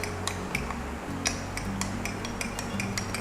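A spoon stirs rose syrup into milk in a glass, giving a steady run of light, evenly spaced clinks close by over a soft low hum.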